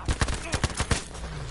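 Gunfire in the Battlefield V video game cracks out in a quick burst of about six sharp shots in uneven rhythm, fairly close, then falls away to a low hum.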